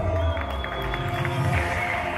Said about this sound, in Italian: gli facciamo un applauso!